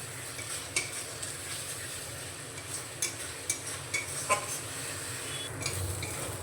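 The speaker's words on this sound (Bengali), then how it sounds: "মশলাটাকে আমি এবার সুন্দর করে কষিয়ে নেব।" Spice masala with cumin and turmeric powder and a splash of water fried in a pan, a soft continuous sizzle under scattered spoon scrapes and light clinks against the metal, close and quiet.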